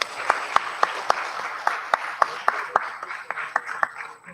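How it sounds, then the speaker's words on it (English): Applause at a children's class ceremony, with loud individual claps standing out in a quick, fairly even rhythm over a softer wash of clapping, heard close by. "Please give them another round of applause."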